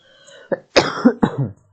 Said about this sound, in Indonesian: Maaf, lagi batuk ya.